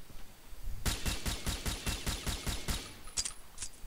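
A rapid string of about a dozen evenly spaced rifle shots from an SR-25 Mark 11 Navy sniper rifle fired from the hip in the shooter game Combat Arms, loud and close, then a few sparser metallic clicks trailing off.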